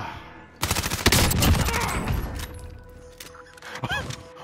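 Gunfire bursts in Call of Duty: Modern Warfare, a dense loud volley of rapid shots followed by scattered shots and game noise, with no talk over it.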